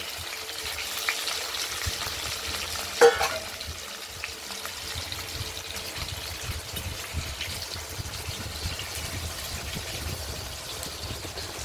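Paneer pieces, soaked in salted hot water and drained, fry in hot oil in a pan for a spicy potato-paneer curry, giving a steady soft sizzle with a brief clunk near the start and no talking.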